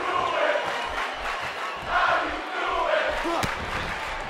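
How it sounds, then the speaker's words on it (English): A WWE 2K18 wrestling arena crowd roars and cheers in a dense, continuous wash of voices that swells and dips, with a brief sharp impact near the end. "Big Cass knows how to work the crowd, that's for sure."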